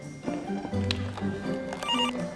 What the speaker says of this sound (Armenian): ամուսինս է զանգահարում այս ժամերին